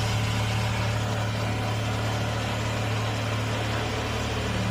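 Suzuki K6A engine in a DA64 pickup drop side idling after a fuel pump replacement, a steady low hum with a constant drone, running alone without voices.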